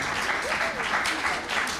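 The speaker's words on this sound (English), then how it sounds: "We'll give her another round of applause." An audience applauds an Irish traditional musician at a music forum, the steady clapping holding for the whole moment with a faint murmur of voices mixed in.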